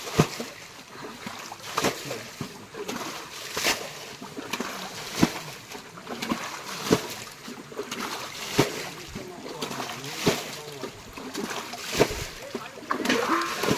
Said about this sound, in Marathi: पाणी उपसा म्हणताय बघ पटापट.